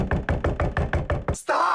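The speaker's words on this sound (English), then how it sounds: "Stop knocking!" Rapid knocking on a bathroom door, about eight firm raps in a quick even series, close and loud, followed by a short rustle.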